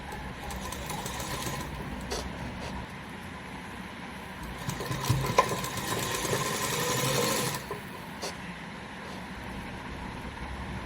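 A sewing machine runs steadily, stitching the side seams of a salwar, its close, even mechanical whir humming continuously with slight shifts in speed and no talking.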